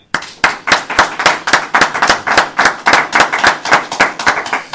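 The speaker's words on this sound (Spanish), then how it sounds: "Este aplauso de cierre" An audience applauds at the close of a book talk on the Spanish Second Republic, with rhythmic, sharp hand claps that sound close and loud throughout.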